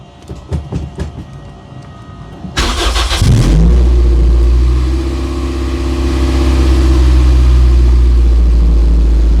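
A moped with a newly fitted eBay rev limiter cranks and catches after a few faint clicks. The engine then settles into a loud, steady running drone at close range, with slight rises in revs and no talking.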